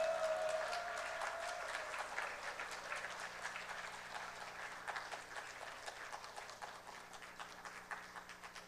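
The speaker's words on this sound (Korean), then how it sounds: "우리 심차게 박수로 목사님 모시겠습니다" Applause in a church greets a pastor arriving to give a special lecture: steady, faint clapping from a congregation that carries on for several seconds and slowly thins out.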